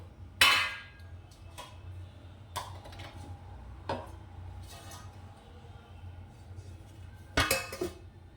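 A metal lid is set on a cooking pot while preparing jackfruit fritters, giving a few faint, separate clanks and clinks against a steady low kitchen hum.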